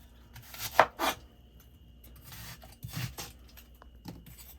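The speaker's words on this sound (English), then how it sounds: "So I chop up all the onions like this." Onions chopped with a knife on a kitchen cutting board: a few quick bursts of crisp cutting strokes separated by pauses, close and fairly quiet, with no talking.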